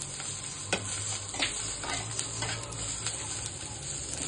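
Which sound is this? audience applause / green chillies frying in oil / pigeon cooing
green chillies frying in oil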